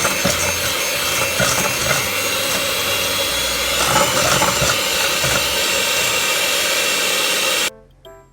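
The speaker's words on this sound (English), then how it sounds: "Mix together until all of your sugar is in your bowl." Sugar is mixed into egg whites in a bowl for macarons, a steady, loud whirring hiss with a scraping texture that runs unbroken, then cuts off abruptly just before the end.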